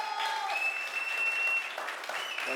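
An audience at Sonu Sood's launch of his Explurger app applauds and cheers loudly and continuously, with dense clapping, a few whistles and shouts rising over the crowd noise.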